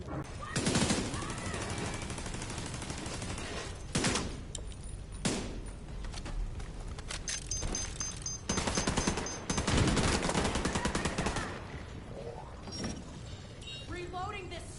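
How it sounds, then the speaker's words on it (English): Rapid automatic gunfire from a weapon in The Division 2, loud bursts repeating across the stretch with short gaps and reload clatter, someone talking over it. "Reloading this stupid gun when I'm shooting things!"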